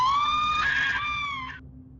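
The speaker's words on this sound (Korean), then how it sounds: "찢어질 듯한 친구들의 비명소리가 들리더래요." Friends let out shrill, piercing screams in a horror-story scene, one sustained high wail that bends in pitch and cuts off abruptly, with no speech.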